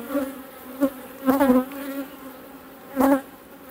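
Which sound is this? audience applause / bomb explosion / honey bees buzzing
honey bees buzzing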